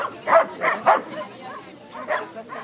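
A dog gives a quick run of several short, yipping barks, then a couple more after a pause, fairly close by, with a voice speaking faintly around them.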